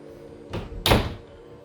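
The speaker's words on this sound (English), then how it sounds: "Let's go and close the door." A media room door closes with a soft initial push followed by a firmer thud about a third of a second later, close and moderately loud over quiet room tone.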